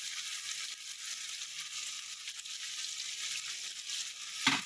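Tomatoes and ginger-garlic paste fry in a pan while fish head curry is being cooked, a steady soft hiss of sizzling held at an even level throughout, ending with a brief clink near the end.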